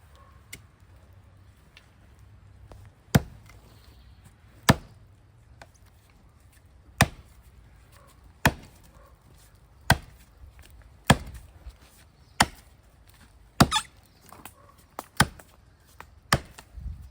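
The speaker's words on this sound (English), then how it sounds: "So we chop this tree down with this axe" An axe bites into a leaning tree, a dozen or so sharp wooden chops spaced a second or two apart, distinct and fairly close with quiet gaps between strikes.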